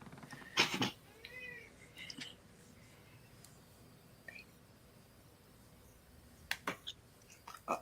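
A hungry pet cat meows a few times, short and fairly close, amid faint room noise and scattered clicks, with no talk over it.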